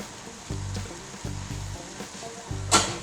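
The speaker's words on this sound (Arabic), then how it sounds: "اللحم نتاعنا تقلى كما تشوفوا" Meat sizzles in a hot pan with a soft, steady crackle. Low rhythmic clunks of cookware repeat every half second or so, and a brighter hiss flares briefly near the end, with no talking.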